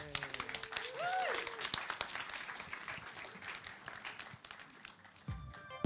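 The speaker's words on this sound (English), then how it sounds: "you can clap" Audience applause at the close of a talk on on-chain trading, a steady crowd clapping through the whole stretch with a few voices and cheers mixed in, ending abruptly.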